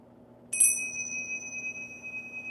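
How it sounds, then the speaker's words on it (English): A single strike of tingsha ceremonial bells rings out bright and clear, then sustains as a long shimmering metallic tone that slowly fades over a quiet background. "This is a tingsha."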